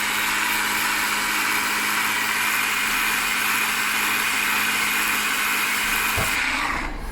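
A Ryobi EZclean cordless pressure washer sprays concrete with a constant loud hissing whine and motor hum that stays steady, then cuts off abruptly near the end.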